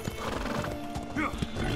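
Hooves clip-clop in a quick rhythm while a horse whinnies in a video game, the sounds close and clear with game voices faintly underneath.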